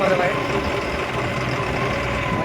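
A John Deere 5405 tractor engine idling, a steady low rumble with an even drone, fairly close and moderately loud, with no clear talk.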